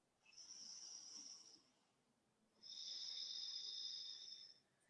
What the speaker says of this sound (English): So let's take 3 deep breaths here.